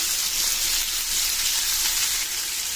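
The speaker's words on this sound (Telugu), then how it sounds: "ఇప్పుడు ఆనియన్ బాగా ఎర్రబడే వరకు కలుపుకొని పెట్టుకోవాలి." Chopped onion fries in hot oil in a pan for an Indian besan curry, cooked after cumin seeds, giving a loud, steady, bright sizzle throughout with no talking over it.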